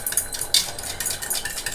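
A spoon stirs medium-hot chilli powder into a pot of jeera rice, giving soft, irregular scraping and clinking against the vessel across a short, close-up stretch with no voices.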